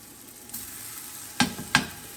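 Spoonfuls of beetroot farina pancake batter dropped into a non-stick pan, giving two short sharp sizzles over a faint background hiss, close and fairly quiet.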